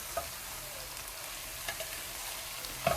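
Mixed wild greens sauté in oil with a steady close sizzle, broken now and then by soft scrapes of stirring in the pan.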